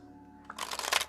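A brief riffle of playing cards being shuffled, a quick burst of crisp flapping that builds and ends abruptly, close up.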